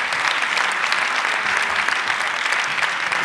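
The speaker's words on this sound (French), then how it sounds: "On vous applaudit, on vous remercie." Steady, dense applause from a lecture-hall audience thanking linguist Claude Hagège after his talk on violence and religion, loud and even throughout with no voices over it.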